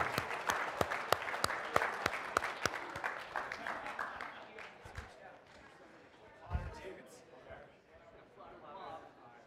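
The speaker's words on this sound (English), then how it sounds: "You can clap for them too." Audience applause at a startup accelerator awards ceremony, with loud, dense clapping at first that thins and fades toward the end while voices talk over it.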